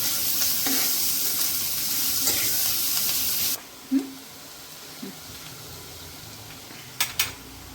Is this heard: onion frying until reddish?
yes